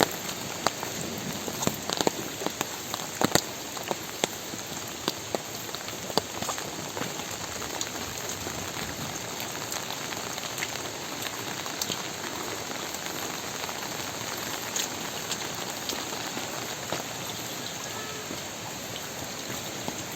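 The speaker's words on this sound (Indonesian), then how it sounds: "Apalagi kalau hujan ya" Steady heavy rain pours down, a dense continuous hiss with scattered close drops pattering on a surface, no voices.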